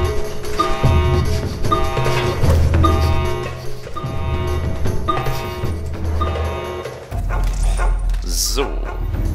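A dog barks repeatedly in the stealth video game Mark of the Ninja, loud rhythmic barks over game music and alarm tones, with someone talking alongside.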